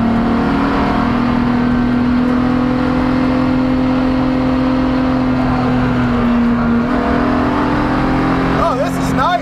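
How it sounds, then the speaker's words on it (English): A BMW E46 330ci Spec E46 race car holds a loud, steady engine drone in third gear on a race track, with a slight pitch dip near the end. "Revs in third gear between these corners."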